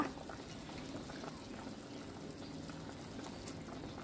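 Water that has been left boiling a long while in a cooking pot, a faint low steady bubbling rumble close by with no talking.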